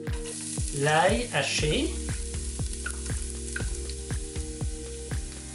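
Ginger and garlic sizzle and crackle in hot oil inside an Instant Pot, a loud steady fry with stirring clicks and scraping throughout, while a person speaks briefly near the start.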